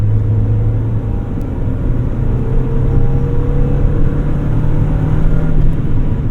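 A stock Mazda MX-5 Miata accelerating on a street, its steady engine drone and low road rumble rising evenly throughout from inside the car, with no talk.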